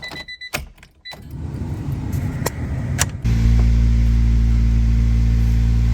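Project car being tested for gears and clutch: clicks and a whirring crank, then the engine catches and settles into a loud, steady idle close by.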